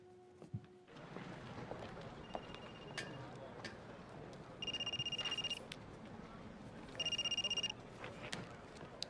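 A telephone ringing on the line during an outgoing phone call, two bursts of electronic ringback tone, moderately loud and regular, with quiet room ambience and small handling noises around them.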